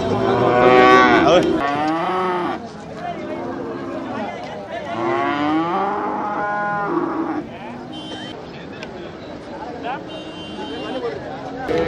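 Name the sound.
cattle mooing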